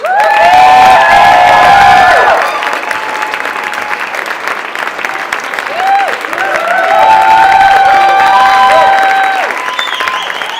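A comedy club audience welcomes a stand-up comedian with loud applause, whoops and shrill cheers, swelling, easing for a moment, then rising again into another burst of cheering.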